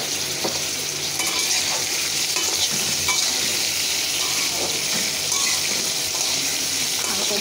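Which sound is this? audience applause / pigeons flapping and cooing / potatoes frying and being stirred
potatoes frying and being stirred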